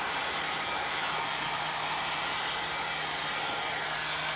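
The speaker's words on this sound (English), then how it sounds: "Make sure if you're using a hairdryer, you're probably safe" A hair dryer runs steadily, blowing hot air onto a Ford Bronco center grab handle wrap, a constant close whooshing drone with a faint hum that holds level throughout without any speech.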